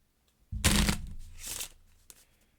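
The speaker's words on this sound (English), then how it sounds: "So we shuffle." Marvel Champions cards are riffled and bridged in two quick bursts of crisp fluttering, close up, with quiet before and after.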